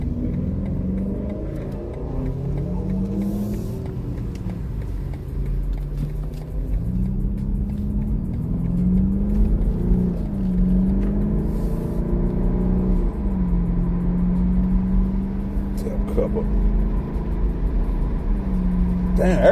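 Car engines rev and race through city streets, several rising and falling engine drones overlapping steadily for the whole stretch, with a voice speaking now and then.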